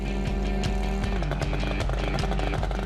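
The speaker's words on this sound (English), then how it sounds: "The engine makes a distinctive chatter." A DKW Supersport 600cc two-stroke motorcycle engine runs loud and close with a rapid, steady chattering pulse and regular rhythmic knocks throughout.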